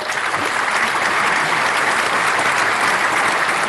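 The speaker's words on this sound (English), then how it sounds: "I think that deserves a round of applause as well." An audience at a live community talk show in Aberfeldy breaks into steady, dense applause, loud and even throughout with no pauses, a continuous wash of many hands clapping.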